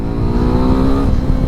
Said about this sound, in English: we're all set to go, which means turning on the motorcycle